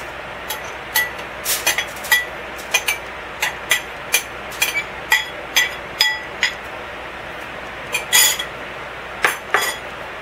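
Shredded coconut is spread and smoothed with a utensil across a foil-lined metal cookie sheet. Crisp, bright taps and clinks come in a quick, uneven series, close and fairly loud, over near silence. No one speaks.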